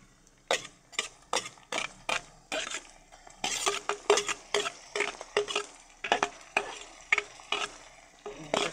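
Spoon stirring ground pork into sopas in a pot, giving a rapid series of sharp scraping clacks against the metal with a soft sizzle underneath, close and steady throughout.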